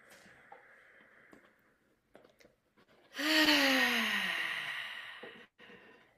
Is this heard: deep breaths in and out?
yes